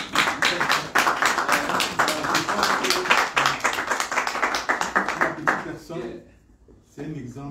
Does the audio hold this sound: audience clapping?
yes